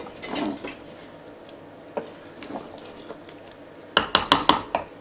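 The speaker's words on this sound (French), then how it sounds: "Hop, et je vais tout servir dans un plat." Sweet-and-sour meatballs are served into a dish at home: scattered light clinks and scrapes of utensils on crockery, ending in a quick run of sharp, close clatters.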